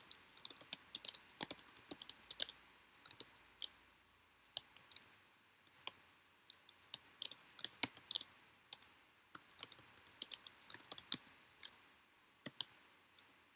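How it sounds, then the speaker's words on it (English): A computer mouse gives quick, quiet clicks in small irregular clusters, close and crisp against near silence, with no voices. "So I'm going to triple click."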